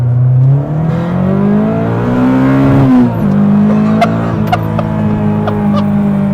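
A modified Nissan Micra engine revs hard and loud, its pitch climbing and dipping, with a buzzy, raspy tone close by.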